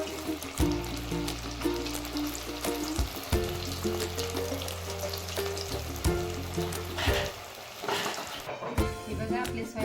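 Sabudana vada fry in hot oil with a continuous bubbling sizzle beneath prominent background music.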